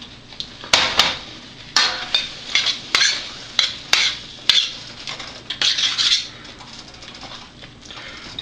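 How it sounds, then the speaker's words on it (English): Sausage stirred back into simmering gravy in a pan, with a spoon scraping and clinking against the metal in a steady series of close strokes over a soft bubbling sizzle, no talking. "What we're going to do now is we're going to add that sausage back into it."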